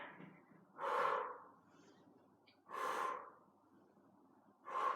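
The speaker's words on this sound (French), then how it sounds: "soufflez en montant, inspirez en descendant, soufflez en montant" Heavy breathing during a HIIT workout, with three strong, noisy exhalations spaced about two seconds apart and quieter breaths between them, close to the microphone.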